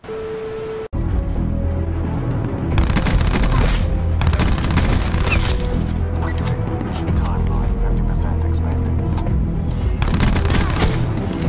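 A Switchblade X9 SMG fires in a video game in dense, rapid bursts that go on almost nonstop for about ten seconds. A voice talks over the shooting.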